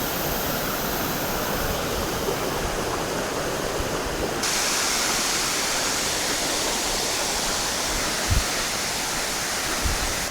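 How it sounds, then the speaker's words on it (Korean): A cool mountain valley stream on Cheonggyesan rushes steadily and close by, a dense broadband wash of flowing water that holds constant throughout with no voices. "조금 걸어 올라오니까 이렇게 시원한 계곡이 흐르네요"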